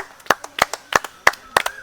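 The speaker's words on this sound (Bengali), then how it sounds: "হাততালি দে হাততালি মারো সবাই" Outdoors, several people clap in a brisk, even beat to encourage a child climbing a palm tree, with five strong claps nearby and lighter claps scattered among them.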